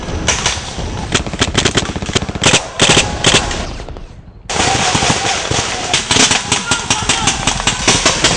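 Airsoft guns firing pellets during a team battle in thick jungle, rapid bursts of loud close clattering shots with a short lull, voices mixed in.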